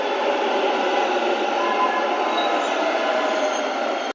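Steady, loud rumble of a Bangalore metro train arriving, a continuous broadband roar with faint high whines, no talking.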